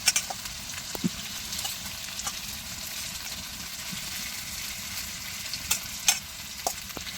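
Mutton curry with large fried potatoes bubbles and fries in oil in a village home kitchen, giving a steady, close sizzle with scattered sharp pops and light clinks.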